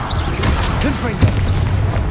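Booming Confringo fire-spell blast from Hogwarts Legacy spellcasting, a punchy impact about a second in amid ongoing low rumble, whooshes and scattered combat effects, close and loud.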